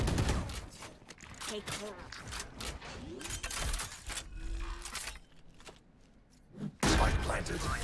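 Rapid gunfire from weapons in the tactical shooter game Valorant, bursts of shots with echoing tails and mechanical clatter, loud and close, fading quieter before a final sharp burst.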